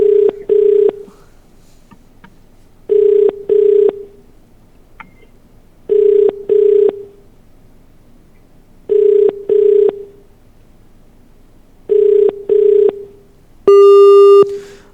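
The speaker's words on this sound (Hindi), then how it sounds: "बैल जा रही है।" A phone call rings out to an MLA in Ayodhya: paired ringback tones repeat every three seconds, loud and clear on the line, ending in a harsher multi-tone beep.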